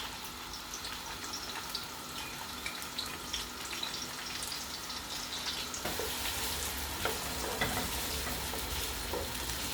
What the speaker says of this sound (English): Leave your onions to cook.